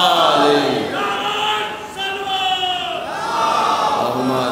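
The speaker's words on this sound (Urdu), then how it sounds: "نعرے لگانے والے بھی جیتے رہیں، یا علی مدد کہنے والے بھی جیتے رہیں" A crowd at a Shia majlis gathering chants religious slogans in unison, loud, reverberant voices rising and falling in sustained, drawn-out calls that fill the space continuously.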